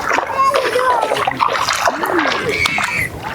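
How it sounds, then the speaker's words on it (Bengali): Water gushes and splashes steadily in a rural channel where fish are being netted, with voices talking over the flow, a child's among them. "দেখছেন পানি কত সুন্দর ঢালা"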